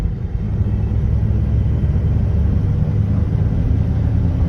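A 1966 Ford F100 custom cab pickup truck drives along, its engine a steady low rumble with road noise, smooth and constant without shifts standing out.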